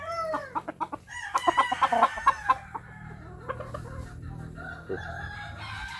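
Close rooster in Barangay Bonbon, Sityo Mamaw, lets out a run of sharp clucks rising into a crow, followed by a few scattered quieter clucks over a low background hum.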